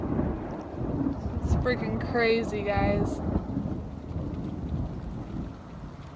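Heavy rain pours down during a thunderstorm, a dense continuous roar with rumbling low end and wind buffeting the microphone, while a person talks briefly over it.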